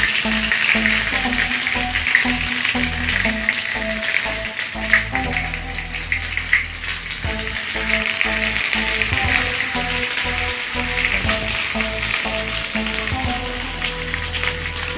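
Spice powder for chicken pickle frying in oil in a pan, producing a loud, continuous sizzle throughout, with background music tones running underneath.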